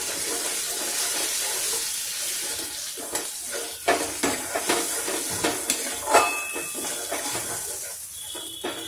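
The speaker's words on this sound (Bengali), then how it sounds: "দিয়ে দিলাম কাশ্মীরি লঙ্কার গুঁড়ো মশলাটা ভালো করে কষে নিই" Spice paste with Kashmiri chili powder is sautéed in oil. A continuous hissing sizzle carries a run of soft, rhythmic stirring scrapes and light pan knocks in the middle, all close by and without speech.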